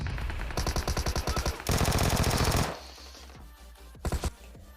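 Tommy gun bursts in a video game: rapid rattling automatic fire in loud clipped volleys, one long sustained burst, then a quieter pause and a short final burst, with no talking.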